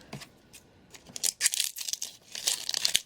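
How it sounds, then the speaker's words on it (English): Scissors cutting open a foil One Piece trading card pack, with a few crinkly snips and tearing crackles that come in short bursts and grow louder toward the end, with no talking. "These scissors are not great for cutting this."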